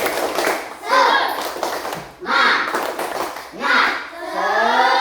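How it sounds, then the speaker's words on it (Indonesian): Elementary schoolchildren in a classroom perform a rhythmic clapping chant in three loud bursts of claps and voices, separated by brief pauses. "Ayo, tepuk semangat."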